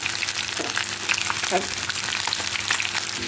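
Steady, close sizzling and crackling of bluefish frying in a hot pan, with a few soft scraping sounds.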